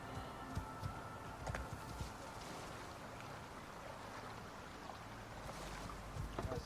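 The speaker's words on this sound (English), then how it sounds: "Take our horse for a run." A horse galloping in the survival video game ICARUS; steady rhythmic hoof clops run beneath a broad, rushing background wash, moderately close and fairly even in loudness throughout.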